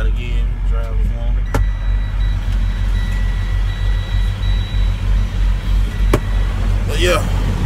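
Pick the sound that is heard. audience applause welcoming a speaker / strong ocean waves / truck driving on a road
truck driving on a road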